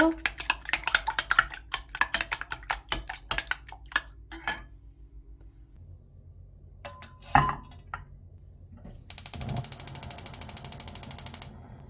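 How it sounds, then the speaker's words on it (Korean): Two eggs beaten in a bowl, a fast run of crisp rhythmic clicks and taps against the bowl for several seconds, followed by quieter kitchen noises and a steady rattling whir. "달걀을 풀어볼 건데요"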